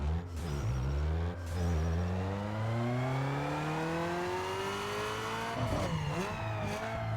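A Mazda Miata MX-5 with a 1.8L I4, tuned in Need For Speed Underground 2, revs hard on a dyno. The loud, continuous engine note climbs steadily in pitch, dips briefly near the end, then rises again, with no talking.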